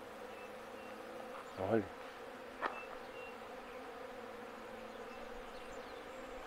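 Large mangangava carpenter bees buzz around a flowering jurema preta tree, with a brief louder drone as one passes close and a second fainter pass later, over a steady hum of insects; a voice speaks one short word.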